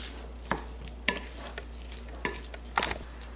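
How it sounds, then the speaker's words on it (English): Appetizer ingredients gently folded together in a bowl, a few soft scraping and clicking touches of a utensil spaced about a second apart, close and quiet over a low steady hum, no talk. "Then, you just want to gently fold everything in together."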